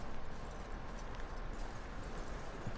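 Horse hooves clip-clop in Red Dead Redemption 2, a steady, fairly faint run of hoofbeats under a dense wash of game ambience.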